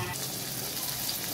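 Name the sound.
onions and green chillies frying in oil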